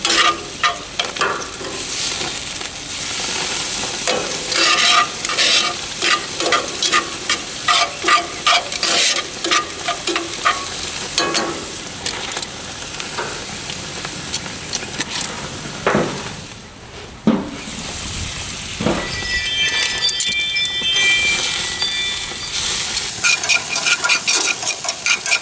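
Steak sears in a hot pan and is turned over, a loud steady sizzle broken by scrapes and knocks of the utensil against the pan, close up and without speech.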